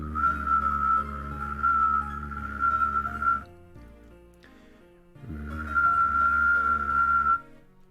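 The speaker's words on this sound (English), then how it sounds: "You guys know what a whistling and humming at the same time sounds like?" A person whistles and hums at the same time, a bright steady whistle over a low hummed tone. Two sustained phrases of several seconds each are split by a short quiet gap.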